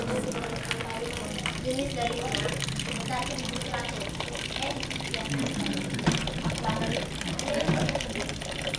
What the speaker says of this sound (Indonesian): Lalu saya akan buka keran ke dalam air ini.